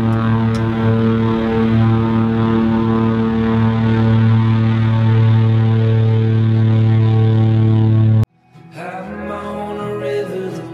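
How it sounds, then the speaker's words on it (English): A seaplane's propeller engine drones in a steady, loud, even hum with strong tonal harmonics, heard from a boat on a sailing trip to the Dry Tortugas. The drone holds for about eight seconds, then cuts off abruptly, giving way to quieter mixed sound. "Look at that seaplane."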